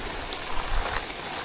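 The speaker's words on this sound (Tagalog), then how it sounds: "Yan, nabot na kami ng ulan." Steady rain pattering on a boat, a dense even hiss of drops with a slight swell midway, heard alone without voices.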